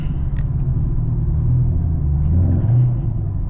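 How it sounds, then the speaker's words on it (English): Chevrolet Camaro 2SS engine rumbling low and steady while driving in congested traffic, with a slight swell of revs near the end and no talking. "Bro, this car sounds so crazy,"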